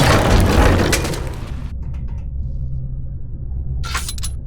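An explosion in the video game Verne: The Shape of Fantasy opens with a loud, crackling blast. A deep rumble then lingers for several seconds, and a short, sharp burst of debris comes near the end.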